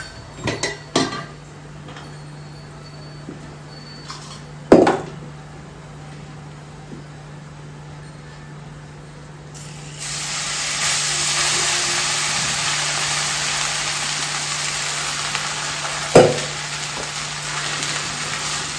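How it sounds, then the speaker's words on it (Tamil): Cooked rice being mixed into a frying pan: occasional sharp clinks and scrapes of a utensil against the pan, then a steady hiss of cooking that rises midway and continues under further scraping. "இப்போ வடித்து வச்சுருக்க சாதத்தை எடுத்து இதில் அப்படியே மிக்ஸ் பண்ணிடுறேன்"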